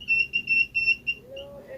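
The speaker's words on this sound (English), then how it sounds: "Now you can, I don't know if you can hear it beep or not" A laser transit level emitting a series of five rapid, high electronic beeps in a steady rhythm, then a fainter sustained tone, with a person talking quietly underneath.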